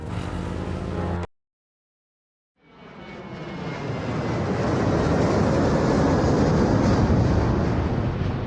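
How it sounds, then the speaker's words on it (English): A plane's engines drone in the adventure game Gabriel Knight, a steady broad roar that swells in after a brief silence and holds loud and close, with no talk over it. "Gabriel picks up his tickets at the airport and boards a plane for Munich."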